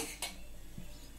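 A metal kadai set down on a stove while cooking Godavari-style fish curry, giving two short, faint metallic clinks in an otherwise quiet kitchen.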